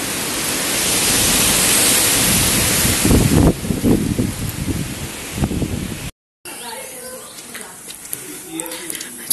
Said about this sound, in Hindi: चील के पेड़ देख रहे हो कैसे हिल रहे हैं ऊपर जंगल में।